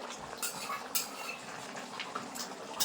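A utensil stirs pangas fish curry in a pan after garam masala paste is added. It makes scattered metallic scrapes and clinks over a soft sizzle, with no talking.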